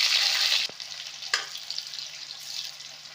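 Fenugreek seeds and onion hit hot oil in a kadai with a loud, bright sizzle that drops sharply after a moment, then settles into a steady crackling fry with a few spatters and clinks.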